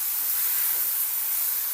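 Ginger, garlic, turmeric and whole masoor lentils sauté in a pan, giving a steady, fairly loud hiss that stays even throughout with no talking.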